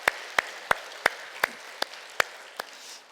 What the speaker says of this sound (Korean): 지난 46년간 인도하신 하나님 앞에 감사 박수 저희가 드리기 원합니다